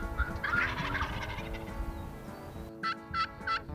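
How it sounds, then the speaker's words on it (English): A wild turkey gobbles during a turkey hunt, rattling calls rising over outdoor background noise, followed by three distinct, evenly spaced gobbles at moderate distance. "another awesome turkey hunt"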